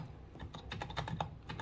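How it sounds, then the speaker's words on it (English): Fingers type quickly on a Skyloong GK104 Pro mechanical keyboard, producing a rapid, irregular run of close, crisp key clicks and clacks at moderate volume with no speech. "Let me try typing."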